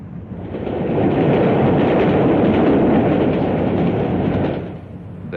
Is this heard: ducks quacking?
no